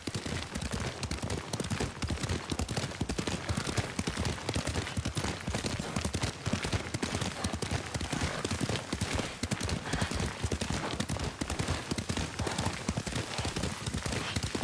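Steady, fast clip-clop of horse hooves while riding in Ghost of Tsushima, a continuous dense rhythm of hoofbeats running throughout at a fairly loud, close level.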